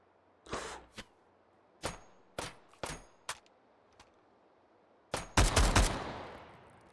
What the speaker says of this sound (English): Somebody shooting at me?